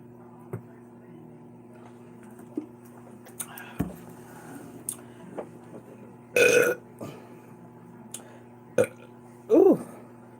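Two loud, drawn-out burps break out from a person eating spaghetti during a livestream, spaced a few seconds apart among scattered small mouth and handling noises over a faint steady hum.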